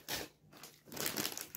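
A crinkly plastic snack bag is handled and torn open in two bursts of rustling and crackling separated by a brief quieter pause, close and fairly soft.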